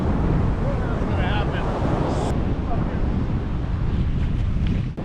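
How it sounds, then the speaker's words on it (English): Cold wind gusts steadily across a microphone on the Atlantic shore, a loud broadband roar with surf washing underneath, continuous for the whole stretch with a brief dip near the end. "the wind is cold"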